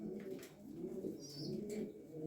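Soft, low pigeon cooing from a female pigeon of a high-flying breed, a steady murmuring coo running continuously through the short stretch, close by with no talk over it.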